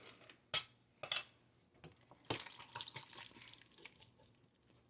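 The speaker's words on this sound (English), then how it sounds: "Now you want to start with red tart cherries in a can, and we're going to drain them." Canned red tart cherries are drained in a kitchen, with a few sharp clanks of the metal can and utensils followed by a soft ongoing trickle and splash of liquid, close and quiet.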